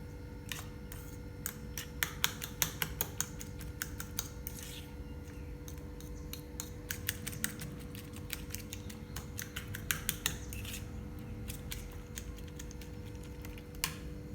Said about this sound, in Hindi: अब इसे अच्छी तरह से फेंट लेंगे ताकि हमारी प्याज, मिर्च, हल्दी, नमक अच्छी तरह से एक दूसरे के साथ मिल जाएंगे।